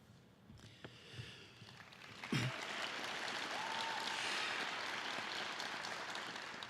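Scattered applause from an audience at a Phi Beta Kappa induction ceremony swells into steady, moderate clapping that fills the room and holds for several seconds.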